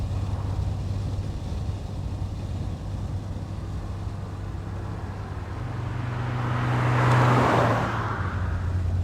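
A Triumph TR6 sports car being driven, with a steady low engine drone and road rumble throughout that swells briefly louder near the end, mixed with wind noise and no talk.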